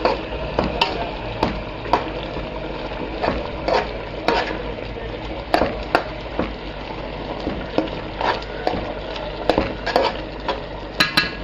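Potato pieces for Egyptian moussaka frying in hot oil in a pan: a steady close sizzle broken by repeated clinks and scrapes of a utensil stirring against the pan.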